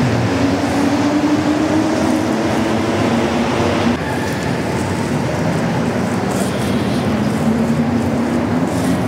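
A metro train in a Montreal station rumbles steadily and loudly throughout, with a rising whine near the start and a shift in the roar midway as it moves through the platform.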